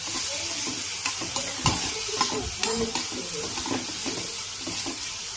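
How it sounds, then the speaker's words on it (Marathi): Chopped onion and garlic fry in a pan over a high gas flame, a steady sizzle with scattered stirring scrapes and clicks of a utensil, close and continuous, with no talking. "आता हा कांदा असाच मस्त थोडासा लाल करून घ्यायचा आहे"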